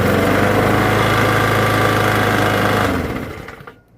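A Briggs & Stratton lawn mower engine, recently vapor locked, runs loud and steady with a rapid chugging beat, then winds down and stops near the end.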